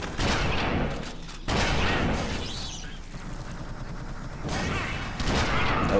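Gunfire from Alien Swarm: Reactive Drop comes in sustained loud bursts with short gaps between them, dense and close, with only faint talk under the shooting.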